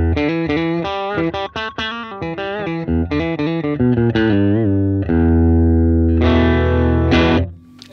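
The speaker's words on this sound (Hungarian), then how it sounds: "Ez a gitár hangunk" An electric guitar played clean through its amp with no effect pedal engaged, a sequence of distinct close notes and chords ending in a sustained ringing chord that fades out.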